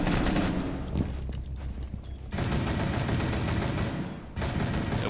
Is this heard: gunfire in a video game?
yes